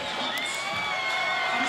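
Crowd at a 3x3 basketball World Cup quarterfinal cheering loudly and continuously, with whoops and high shouts filling the arena and an announcer's voice partly audible beneath.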